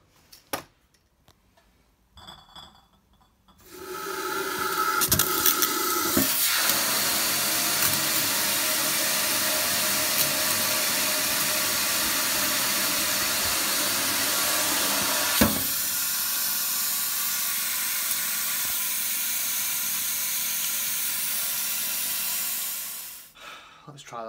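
A BrewTools spray nozzle running water into a steam condenser makes a loud, steady rushing hiss that starts abruptly and holds for nearly twenty seconds before cutting off, with clatter and handling noises before it.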